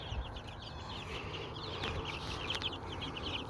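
Faint, quiet clucking from a small flock of New Hampshire Red hens kept alongside a Pekin duck and a broad-breasted turkey, soft repeated chirrups over a low steady background hum, with no talking.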